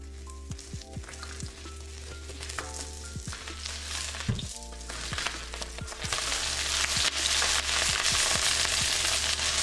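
Flank steak sizzles loudly in hot oil in a pan, a dense continuous frying hiss with scattered sharp crackles and pops that swells louder toward the end.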